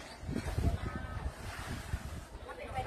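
Wind gusts buffet the microphone outdoors at a seaside spot, a rough, rumbling rush that swells and eases over about three seconds while a person talks through it.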